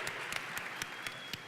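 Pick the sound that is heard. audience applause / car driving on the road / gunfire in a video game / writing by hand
audience applause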